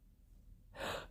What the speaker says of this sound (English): Oh, sorry, big yawns.